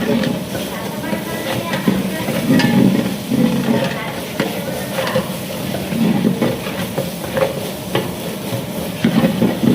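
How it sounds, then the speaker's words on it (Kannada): Onions and tomatoes frying in a pan for a home-cooked temple offering, a steady broadband sizzle with stirring clatter, heard under background talk and ambient noise. "ಎಲ್ಲ ಚೆನ್ನಾಗಿ ಫ್ರೈ ಮಾಡ್ತೀವಿ"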